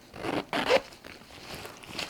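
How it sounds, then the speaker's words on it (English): A zipper on a tote bag pocket is pulled in two quick, raspy strokes close up, followed by softer rustling. "that zip sounds a bit worse than it actually is"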